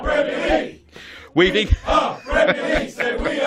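A football crowd chants a repeated Premier League slogan in unison, several voices rising and falling in short rhythmic phrases with brief pauses between lines.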